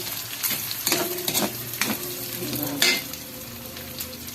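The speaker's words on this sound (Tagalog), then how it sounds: "i-add ko na ang aking prinitong bacon" Bacon frying in butter with onions in a pan, a steady close sizzle with occasional stirring scrapes and clatter.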